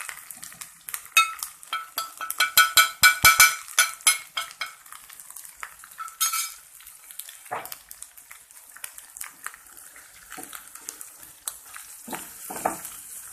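Okra stirred in a pan with masala, giving crackling sizzles and scraping stirs in bursts, loudest early and then thinning into scattered pops and spoon clatter.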